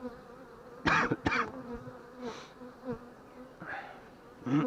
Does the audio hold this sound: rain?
no